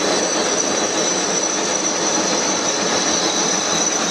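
A 1K62 lathe bores metal with coolant running, producing a steady, dense, hissing machining roar with a constant high tonal whine that stays loud and unbroken throughout.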